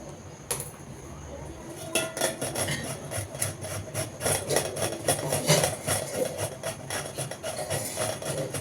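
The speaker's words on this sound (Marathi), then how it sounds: "मी आता लौकी किसून घेत आहे." Bottle gourd rubbed against a grater in quick repeated strokes, producing close rasping scrapes in an uneven rhythm that speeds up after a short pause near the start.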